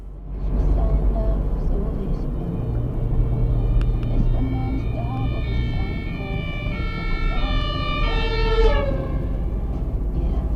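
An ambulance siren wails loudly with rising and falling tones as it passes close by on a road, over a steady rumble of car traffic.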